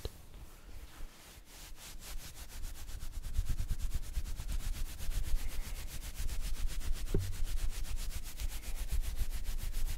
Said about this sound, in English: Scratching sound on fabric could also kind of simulate a kind of head scratching